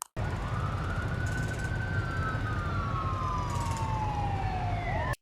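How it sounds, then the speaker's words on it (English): A siren wails loudly and continuously over a rumbling low drone, its pitch sliding slowly downward, with a faint higher tone pulsing in and out. "I hear sirens."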